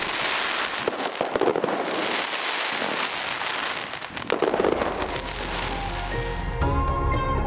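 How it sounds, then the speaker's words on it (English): Festival fireworks burst over Penghu in a dense, continuous crackling barrage with sharp pops and booms, loud and close, followed by a deep low rumble as the display continues. "a magnificent display of fireworks"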